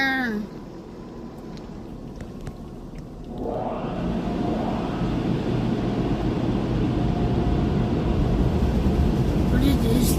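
Automatic car wash spraying water onto a car, heard from inside as a steady loud rushing hiss that swells after a few seconds, with a voice talking over it.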